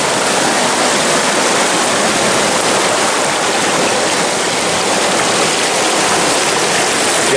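Powerful river rushing below a dam, a steady broadband roar of fast-moving water that fills the whole stretch without breaks or voices.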